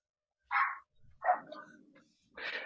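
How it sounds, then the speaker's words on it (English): A few sharp dog barks ring out close by, with short pauses between them and a quieter yip in the middle. "Excuse the dogs."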